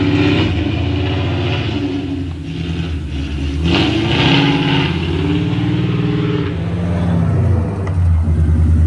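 A 2018 Ford Mustang GT with BAER drag brakes on a test drive, its V8 engine rumbling steadily and loudly from inside the cabin, with the pitch rising and falling as it accelerates and shifts.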